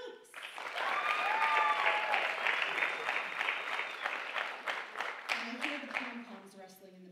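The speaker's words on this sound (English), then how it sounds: "please join me in a round of applause for Miss Tiara Stokes" An audience applauds a performer named Tiara Stokes at a college dance show, a dense burst of clapping that swells quickly, holds steady and then thins out as music begins to rise underneath.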